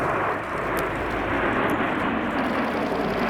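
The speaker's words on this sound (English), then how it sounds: "the smoke is about to come on for the Typhoon roll." A Eurofighter Typhoon jet at an airshow, a loud continuous roar of jet engine noise filling the air as it performs a roll, steady throughout with no talk.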